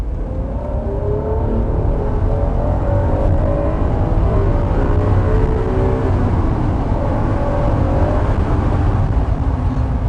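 The loud engine of a 1992 Honda NSX drones and climbs steadily in pitch, revving hard to about 8,000 rpm for several seconds, heard from inside the car with no speech.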